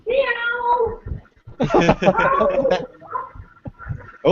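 A person imitates a cat's meow at house cats, giving long drawn-out meows in close succession with brief pauses, loud and near, with no talk.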